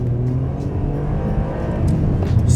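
A Ferrari 575M's engine revs hard and steady, with a loud, dense mechanical roar that climbs slightly toward the end, heard up close with no talking.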